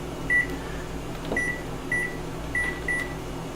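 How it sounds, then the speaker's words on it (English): A microwave oven in a kitchen, used for making kale chips, gives a series of short, clear keypad beeps as its timer is set for 15 minutes and started, with a low running hum between the beeps. "I'm going to set the timer again for, let's see here, 15 minutes."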